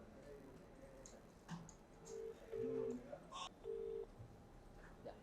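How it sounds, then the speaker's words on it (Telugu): Electronic telephone tones, a few short steady beeps at one pitch repeating over a quiet, noisy background. "ఫోన్ రింగ్ అవుతుంది"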